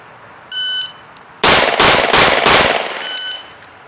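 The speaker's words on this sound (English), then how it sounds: "next is 4 shots from the ready position" A timed shooting drill: a shot timer beeps, then four sharp, loud, close gunshots are fired in quick succession from the ready position.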